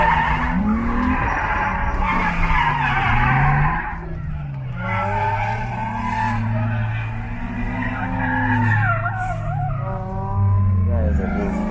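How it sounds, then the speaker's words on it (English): An Infiniti G35 spins out at a track drift day at Grand Bend, with a loud engine revving and wavering tyre squeal through the spin, nearby and continuous, and a voice talking faintly over it. "He's spinning out, he's spinning out."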